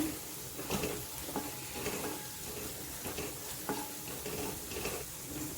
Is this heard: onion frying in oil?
yes